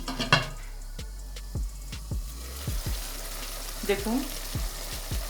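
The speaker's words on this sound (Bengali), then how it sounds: "মাংসটা একটু বেশি সময় ধরে একটু কষিয়ে নিতে হবে।" Mutton being braised and fried with spices and whisked sour yogurt in a pan for akhni pulao, heard as a steady low sizzle with a series of sharp spatula scrapes and knocks at an uneven rhythm. A voice speaks briefly.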